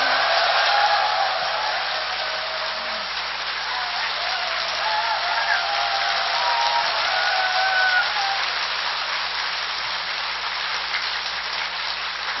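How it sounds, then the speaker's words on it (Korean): Sustained audience applause at a Korean Buddhist public broadcast concert honoring a monk, a dense, steady wash of many clapping hands filling the room at even loudness throughout, with no voices over it. "여러분께서 큰 박수로 스님을 이끌어 드리십시오"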